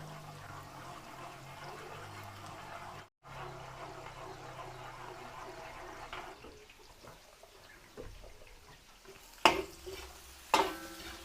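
Garlic, then onion, sautéing in a pan for Filipino pancit bihon guisado: a soft, steady sizzle with stirring and a few sharp clanks of the utensil near the end.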